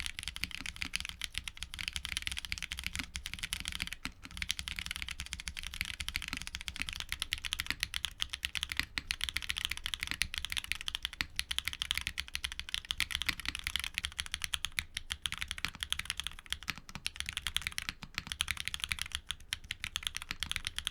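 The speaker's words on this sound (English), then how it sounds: "Here is how they sound." Steady, rapid typing on a mechanical keyboard with TTC Flaming Pink switches, close up, with dense overlapping keystrokes and no talking.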